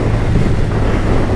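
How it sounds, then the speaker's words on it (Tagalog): Steady, loud wind buffeting the microphone while riding a Yamaha XSR900 motorcycle on the Mindoro Loop in the Philippines, a continuous low roar with no speech. "Putik na hangin yan, grabe."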